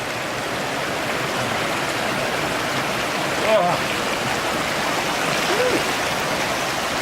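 A cold mountain stream along the John Muir Trail rushes in a steady, close broadband wash of flowing water that stays even throughout, with a brief splash or shift near the middle.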